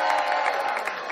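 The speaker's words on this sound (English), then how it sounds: "please, nice round of applause for Franklin" A crowd in a Denver room briefly applauds and cheers for Franklin after a James Brown versus Charlie Brown contest, a short burst of clapping with voices mixed in.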